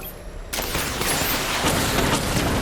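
Batmobile missile barrage firing in Batman: Arkham Knight, a sudden loud onset followed by a dense, sustained rattling volley of launches and blasts continuing steadily throughout.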